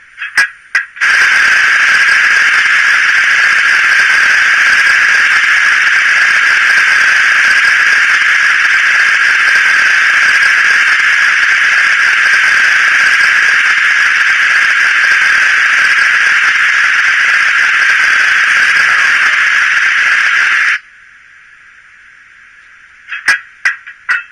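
A model train coupler sound effect: a steady, loud electronic hiss-like tone holds for about twenty seconds, then cuts off abruptly, followed by a few faint clicks.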